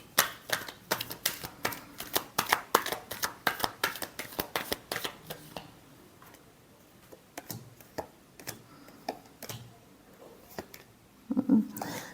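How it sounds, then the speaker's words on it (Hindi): A tarot deck is shuffled by hand during a card reading, making fast crisp riffling clicks in close, quiet bursts that thin out and return in short clusters. "Last shuffle."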